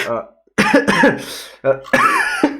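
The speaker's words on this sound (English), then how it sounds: "excuse my cough." Several harsh, close coughs and throat-clearing sounds in quick bursts after a short silence, loud and raspy.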